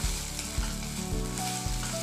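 Crushed ginger, garlic and chili sizzle loudly in hot oil, a dense steady crackle with a few soft stirring bumps and no voices.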